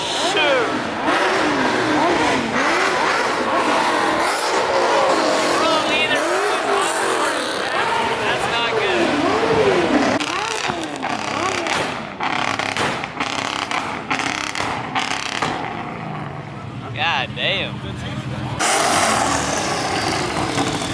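A loud twin-turbo Chevrolet Suburban or Tahoe engine revs hard at a nighttime car meet, sustained roaring bursts with rising and falling pitch, crowd chatter and other engine noise mixed in close by.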